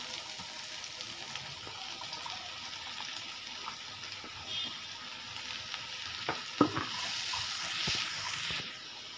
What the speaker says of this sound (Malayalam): ഇനി ആ പാത്രത്തിലോട്ട് തന്നെ ഒരല്പം എണ്ണ ഒഴിച്ച് നമുക്ക് സവാളയൊക്കെ വഴറ്റിയെടുക്കാം